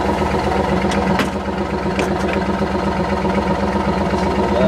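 An old Chevy stick-shift truck engine runs close up with a steady, rumbling idle and a few brief sharp ticks over the continuous drone.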